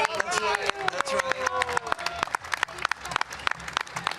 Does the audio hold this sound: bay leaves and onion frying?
no